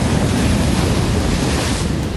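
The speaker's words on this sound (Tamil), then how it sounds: "கடலோர பகுதிகளில் பலத்த காற்று வீசியதால் மாமல்லபுரம் சுற்றுவட்டாரத்தில் உள்ள 44 மீனவ கிராமங்களில் கடல் சீற்றத்துடன் காணப்பட்டது" Rough sea surges onto the coast near Mamallapuram's fishing villages in strong wind, a loud, dense, unbroken roar of surf and gusting wind close to the microphone.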